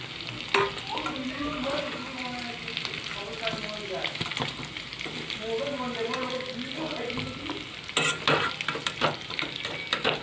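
Pork pieces fry in a pan with a loud, crackling sizzle and frequent scraping stirs, while a voice murmurs faintly underneath; a burst of sharper spattering comes near the end.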